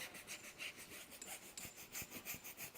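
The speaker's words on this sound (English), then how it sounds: "let those bristles really get in there and give the tire, the rubber, a deep clean." A stiff tire brush scrubs a rubber car tire in quick back-and-forth strokes, a soft, rhythmic bristly rasp heard up close.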